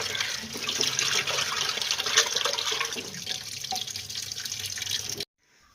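Chicken pieces rinsed under a running tap in a kitchen sink while preparing brosted, KFC-style chicken: a steady, close gush of water and splashing that stops abruptly just before the end.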